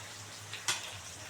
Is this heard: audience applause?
no